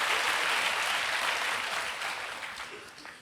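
Church congregation applauding for the praise and worship team, a dense sustained wash of clapping that starts strong and slowly fades over a few seconds.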